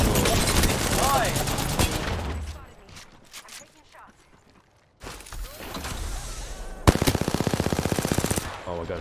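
Automatic weapon fire in an Apex Legends-style shooter plays in loud rapid bursts, with a pause and a quieter stretch midway before a sharp, dense volley near the end.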